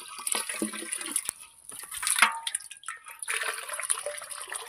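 Water being filled for cattle, an irregular splashing and trickling stream with dripping, fairly close and alone.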